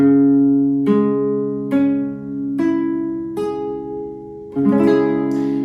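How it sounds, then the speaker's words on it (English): A guitar chord rolled out slowly, about six notes plucked one after another and left ringing, close and clear. "So if I were to strum each string, it sounds like this, nice and slow."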